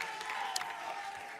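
A crowd at a Congolese gospel singing contest semi-final applauds a contestant, a short burst of steady clapping with a few cheers, moderately distant, while a voice speaks over it.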